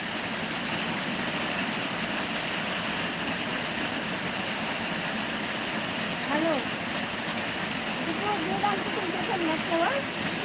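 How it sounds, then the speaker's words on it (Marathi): Heavy rain falls in the Miraj area, a constant hissing wash with a low rumble, and faint bird calls come through near the end. "जबरदस्त पाऊस पडत आहे बघा"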